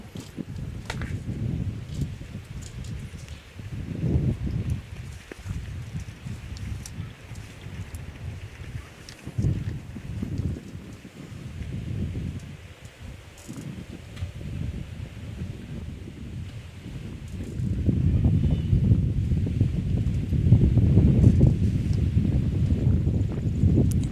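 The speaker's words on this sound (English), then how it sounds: "Hear the wind in our mics here." Gusty wind buffets outdoor microphones on a golf course, coming in uneven low roaring surges that rise and fall and build to a stronger, sustained blast toward the end, with no talk.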